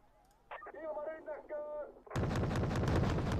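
Artillery cannon fire in the game Wargame Red Dragon erupts suddenly after a quieter stretch of radio chatter and tones, then a loud, sustained barrage of booming shots rolls on to the end.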